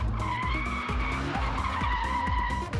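Six-cylinder BMW drifting in a tuning competition, tires skidding and squealing loudly in repeated bursts over a revving engine, close and continuous with no talk.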